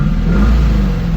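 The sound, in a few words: worn car engine revving, like an LS1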